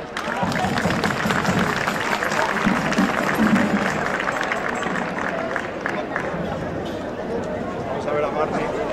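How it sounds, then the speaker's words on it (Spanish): Outdoor crowd applauding a 12-year-old dulzaina player at a gathering of dulzaina players, steady clapping mixed with chatter and crowd babble throughout. "Un aplauso para Adri."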